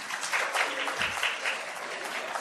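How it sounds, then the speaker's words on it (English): Audience applause at a youth investor event in Pakistan, with a crowd clapping steadily and densely throughout, a continuous close wash of hand claps with no voices on top. "let's have the big claps for Nushaba and her team"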